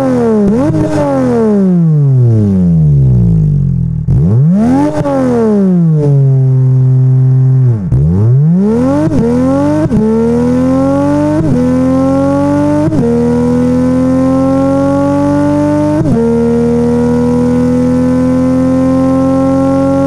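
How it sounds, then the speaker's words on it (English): Simulated Toyota 2JZ inline-six engine with a 153624 firing order, a loud, close synthetic drone revving up and down in sweeping pitch, then climbing through repeated gear shifts, alone with no talk. "they're a pretty standard inline 6 with a firing order of 153624"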